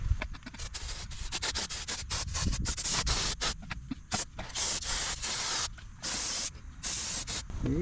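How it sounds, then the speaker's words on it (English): Brake cleaner sprays onto a brake caliper in loud, close bursts of hissing aerosol, broken by short pauses and rapid on-off pulses, with rubbing, scrubbing noise underneath. "I'm gonna go ahead and hit it with some brake cleaner real quick"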